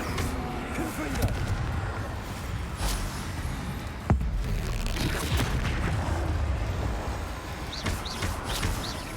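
Confringo blasting spells exploding in the Hogwarts Legacy video game, a dense, continuous barrage of booming blasts with one sharp bang standing out, played loud over busy game effects.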